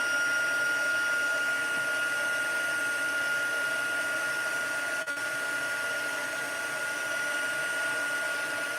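A heat tool used for card-making embossing runs steadily close by, a continuous fan-driven whir with a high whine that holds level throughout, broken only by a brief dip near the end.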